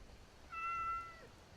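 A cat meows once inside the video game Skyrim, a short clear tonal cry over a quiet background with no talking.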